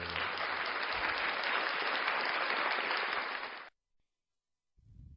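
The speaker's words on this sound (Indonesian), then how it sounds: "Kita tepuk tangan dulu." A class of students claps their hands during a math lesson on factoring quadratic equations, producing a dense, steady burst of applause lasting several seconds that stops abruptly, followed by a short silence.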